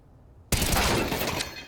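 Grenades going off in a Counter-Strike match at a major esports tournament: after a half-second of near silence, a sudden loud blast erupts and rolls into a dense, crackling roar of explosions and debris that slowly tapers off.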